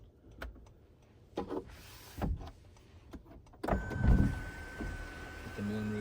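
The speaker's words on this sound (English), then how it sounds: "Get the moonroof open, power sliding moonroof, standard." A power sliding moonroof opening on a 2025 Honda Civic Sport Hybrid, heard as a steady electric motor whir with a faint mechanical hum that starts midway through, following quieter clicks and interior cabin noise.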